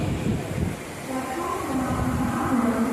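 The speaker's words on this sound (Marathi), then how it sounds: "आता ही कर्जत गाडी जात आहे." A Karjat local train passes at Kalyan railway station, its steady rumble and rolling wheel noise close by, with a rising tonal whine from the carriages.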